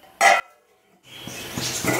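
A lid is set on a pot of simmering tamarind egg curry with one short, sharp metallic clank. A moment of quiet follows, then a soft, low bubbling hiss.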